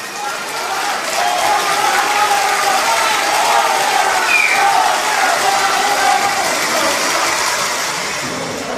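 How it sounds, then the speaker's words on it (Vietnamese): Wedding guests at a Vietnamese wedding ceremony give the groom a steady round of applause and cheering that fills the hall, loud and sustained for several seconds. "Xin mời hôn trường cho chú rể một tràng vỗ tay thật to."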